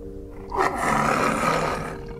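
A tiger in the video game Rising World lets out a long, loud, rumbling roar that swells suddenly and holds for over a second before tapering off, with no voices.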